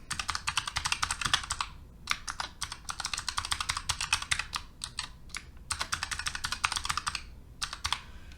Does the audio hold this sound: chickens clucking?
no